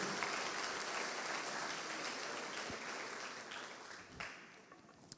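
A church congregation applauds at a service in Portuguese, steady broadband clapping filling the space at moderate level, tapering slightly toward the end.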